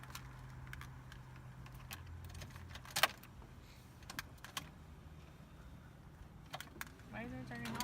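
A bunch of keys, one cut and one still blank, jangles in a brief sharp burst as someone hunts for the right key near a car, set against a steady low hum and a few softer clinks.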